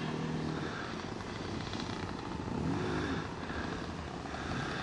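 An airplane flies past at speed, a steady buzzing engine drone that swells slightly and then eases, with no talking.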